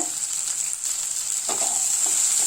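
A tomato, coconut and mushroom masala sautés in a pan for kaalan kulambu, giving a steady soft sizzle with light stirring scrapes partway through, no talking.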